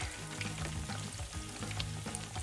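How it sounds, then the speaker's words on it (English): Sweet plantains fry in hot oil in a pan for Puerto Rican amarillos fritos, giving a steady close crackle and sizzle with faint bubbling and no talk. "See how they are frying?"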